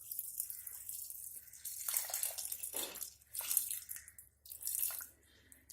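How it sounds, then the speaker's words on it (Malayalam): Water is added to cooking lentils for Kerala-style sambar, a light trickling pour with drips that comes in several short bursts with brief pauses between, quiet and close. "ഇനി അതിലേക്ക് ആവശ്യത്തിന് വെള്ളം ചേർത്ത് കൊടുക്കാം."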